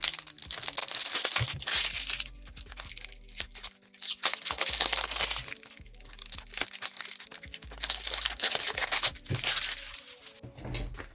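Crinkly plastic packaging of solid extension nail gels is handled in repeated bursts of crackling and rustling, fairly close and loud, with short pauses between handfuls and no talking.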